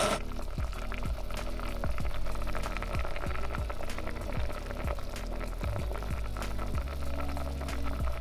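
Soup bubbling on a stovetop in a home kitchen, a steady close simmering hiss with soft irregular pops and gurgles running throughout, no talking.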